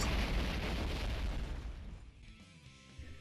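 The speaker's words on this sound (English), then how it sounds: "Crouch Heavy is this bizarre anti-air rocket" A rocket launches as an anti-air attack in the fighting game Guilty Gear Strive, a loud roaring blast with a rushing whoosh that fades away over about three seconds, alone.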